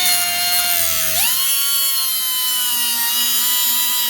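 A power tool cuts through a stud bracket during fuel injector work on a 6.0 Powerstroke diesel, giving a loud continuous whine that dips and then rises in pitch partway through, close up with no talk.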